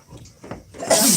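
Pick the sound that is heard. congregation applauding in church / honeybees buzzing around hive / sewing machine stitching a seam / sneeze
sneeze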